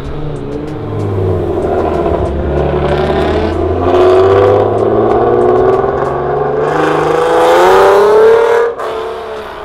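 Cars leaving a JDM car meet in Daytona Beach, engines revving and pulling away one after another, rising whine and exhaust rasp swelling close by, then cutting off abruptly near the end.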